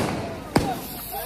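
A single sharp firecracker bang at a birthday celebration, sudden and loud against a steady outdoor background, followed by faint voices.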